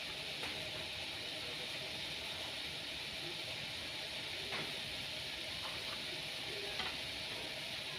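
Chinese sausage (kun chiang) fries in a pan without oil as its added water boils away, giving a soft, continuous crackling sizzle with a few sharper pops spread through the stretch and no talking.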